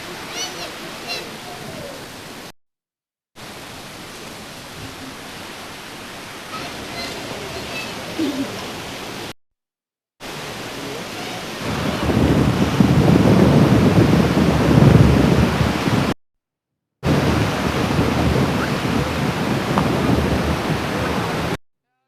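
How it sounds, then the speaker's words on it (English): Gusty wind buffets the microphone with low rumbling bursts at an outdoor lawn bowls match, swelling louder partway through, while a commentator talks intermittently over it. "It's just got really windy at the moment."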